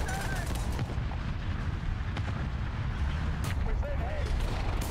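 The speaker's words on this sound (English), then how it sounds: "I'm dropping artillery." Artillery fire in the War Thunder tank game: repeated sharp booming blasts and gunfire crack over a constant battle rumble, with small bursts scattered through the clip.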